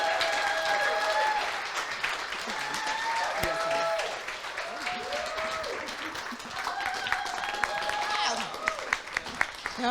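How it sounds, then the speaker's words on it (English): An audience applauds as the hosts come on stage at a mental health event. The clapping is moderately loud and steady under cheering and voices, then thins to scattered claps at the end. "Let's give them a warm round of applause."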